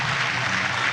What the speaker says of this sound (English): clap for His Excellency because that commitment is a huge one